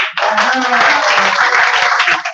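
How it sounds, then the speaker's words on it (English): Crowd clapping at a tenth anniversary celebration, a loud, steady wall of applause lasting a couple of seconds, with voices mixed into it. "So right now, let the clapping continue."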